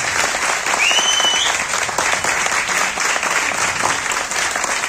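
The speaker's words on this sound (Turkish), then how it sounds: "Çok alkış istiyor." A poetry-reading audience claps continuously for about five seconds, dense and steady, with a brief high whistle early on and faint voices mixed into the applause.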